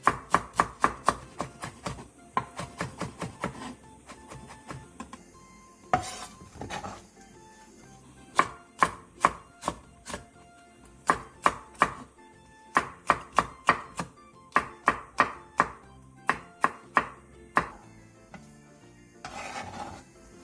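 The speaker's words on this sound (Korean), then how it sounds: "양파 4분의 1개를 채 썰고 대파 2분의 1개, 청양고추 2개, 홍고추 2분의 1개를 어슷 썰기 해주세요." A knife chops onion, green onion, cheongyang chili and red chili on a board in bursts of quick, rhythmic, close-up strokes, with short pauses between runs.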